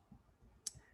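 A single Enter key press on a computer keyboard, one short crisp click at close range, faint and isolated against near silence.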